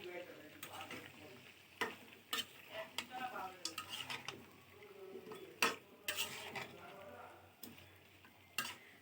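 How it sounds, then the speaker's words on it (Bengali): Radish pieces sautéing in a pan with a katla fish head, a spatula scraping and clinking steadily against the metal over a soft, continuous sizzle, with sharp knocks scattered throughout. "মূলা দিয়েও আমি কষিয়ে নেব ভালো মতো"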